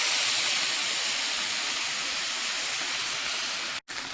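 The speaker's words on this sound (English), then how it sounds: "I'm going to put 2 steaks in." Two small steaks searing in hot oil in a cast iron skillet, a loud, dense, continuous sizzle with no voice over it, broken only by a very brief dropout near the end.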